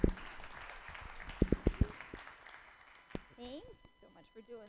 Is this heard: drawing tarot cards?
no